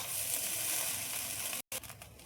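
Fried rice with cashews, raisins and pepper being stirred in a pan, giving a steady close sizzle and scraping throughout, broken by a brief silent gap before the frying resumes.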